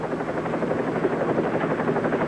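A helicopter drones in flight with a steady, loud rotor chop and engine whine, continuous and close throughout, with no voices over it.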